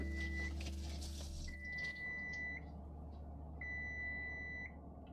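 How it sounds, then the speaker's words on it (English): Several high electronic beeps, two long sustained tones and a shorter one, over a steady low hum, fairly faint. "stop beeping at me"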